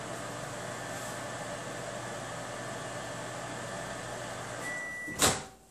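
A microwave oven runs with a steady droning hum while heating ramekins of pumpkin custard, ending with a short sharp beep and a clunk.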